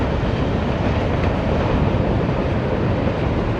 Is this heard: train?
yes